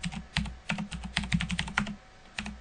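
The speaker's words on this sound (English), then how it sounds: "I could start typing straight in here" Keys on a computer keyboard clatter in quick, irregular bursts of taps, with short pauses between runs, close and fairly quiet. The typing goes into a 2D drafting program.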